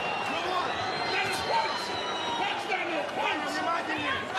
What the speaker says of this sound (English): Left hand there from Usyk, got the crowd going here.